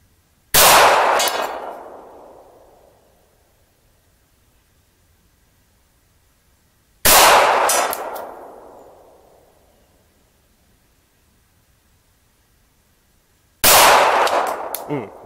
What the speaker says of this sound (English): let me shoot the rest of these I got right here